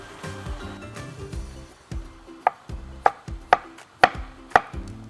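A knife slicing food into thick pieces on a board for a cheeseburger, with several sharp, close chops landing in a quick, fairly regular rhythm over a muffled low background.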